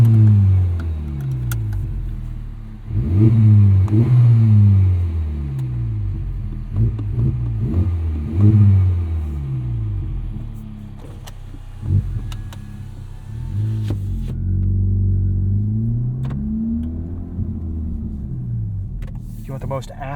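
A 2023 Honda Civic Type R with an MRT street race axle-back muffler delete revs up several times with windows down, deep loud rumbling blips rising and falling over a steady idle, heard from inside the car.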